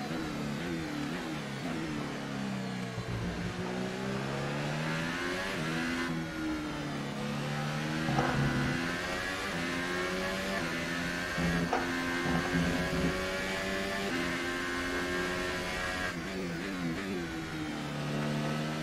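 Formula 1 race cars in F1 2018 gameplay at the Australian Grand Prix, a continuous high engine whine with rising and shifting pitch as cars pass, steady and moderately loud with no talk.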